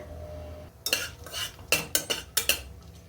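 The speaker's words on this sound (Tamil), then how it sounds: "குக்கரில் நெய் விட்டுக்கிறேன் இதோட எண்ணெயும் கொஞ்சம் சேர்த்துக்கிறேன் நெய் உருகினதுக்கப்புறம் இதில் மிளகு ஜீரகம் முந்திரி பருப்பு" A metal spoon scrapes and clinks against a pressure cooker while pepper, cumin and cashews fry in ghee with a little oil. Half a dozen sharp strokes sound close over a faint, steady sizzle, with no talking.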